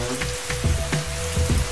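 Rain falling around a porch on rural land, a steady patter with irregular heavier drips and splashes landing close by, heard alone without talk.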